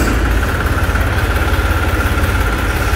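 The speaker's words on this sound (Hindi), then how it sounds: "तो ये है भाई तीन सिलेंडर की साउंड ट्रैक्टर की" A three-cylinder New Holland 3230 tractor engine idles nearby with a steady, low, throbbing chug that keeps an even rhythm throughout.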